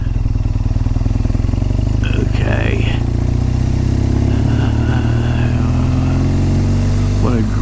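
Motorcycle engine pulling steadily uphill on a wet, slippery road, a loud, continuous low chugging drone heard up close from the rider's position, with a rider speaking briefly over it.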